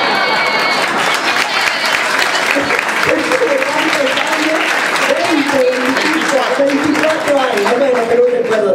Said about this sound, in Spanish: muchas gracias a todos por estos aplausos tan lindos